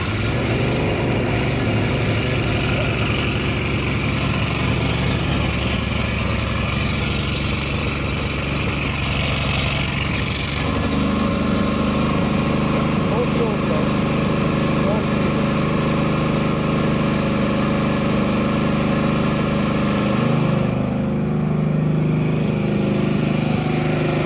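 A neglected 1998 Yazoo YTKC22 three-wheel mower engine cranks and then catches, settling into a loud, steady running rattle heard up close, with a voice now and then under the engine.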